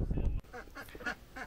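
Ducks at a village farm in Dzūkija, Lithuania, giving four or five nasal quacks in an uneven rhythm, close by, right after a short burst of low rumbling noise.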